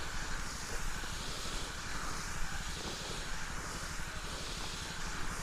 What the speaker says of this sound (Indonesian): maka saya menggunakan mesin steam atau mesin cuci motor